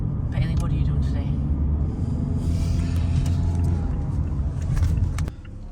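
Interior of a car being driven faster than usual on the way to a train station before dawn: a loud, steady low road-and-engine rumble fills the cabin throughout, with a few brief clicks and knocks, easing slightly near the end.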